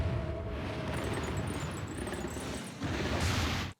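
Explosions in the video game Monster Hunter Freedom Unite rumble in a dense, continuous roar, with a second heavy blast near the end over game sounds and no speech.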